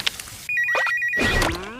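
A cartoon telephone rings with a bright electronic ring tone in a short burst of repeated pulses, set among other cartoon sound effects in a Spy x Family scene.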